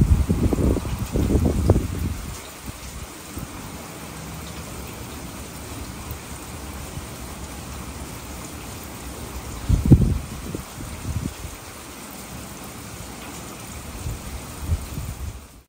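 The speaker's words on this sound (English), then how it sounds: "I want you guys to really hear what it was like out here, just smoking in the rain" Rain falls steadily outdoors in a soft, even patter, with a few low rumbling bursts of thunder or wind gusts rising and fading.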